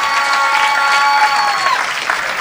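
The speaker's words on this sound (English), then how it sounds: "So please give a round of applause to our leader of the opposition and party president." Town hall forum audience applauding the opposition leader and party president, a dense, steady burst of clapping from a crowd, loud and close throughout.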